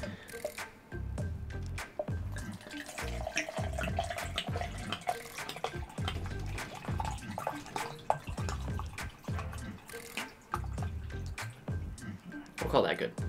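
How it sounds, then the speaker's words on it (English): Water poured into a shaker for a G Fuel energy drink, with splashing and dripping sounds running steadily under ongoing talk nearby. "Pour yourself some water this thing."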